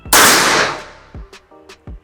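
A single sharp shot from an SR Extraction 500cc PCP air rifle cracks out close by, followed by a few faint clicks and knocks afterward.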